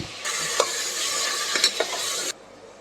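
Mutton sizzles steadily in hot oil while a spoon scrapes and clinks against the pan a few times, close and fairly quiet.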